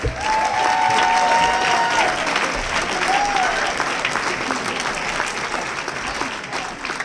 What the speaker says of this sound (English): How about a next round of applause one more time?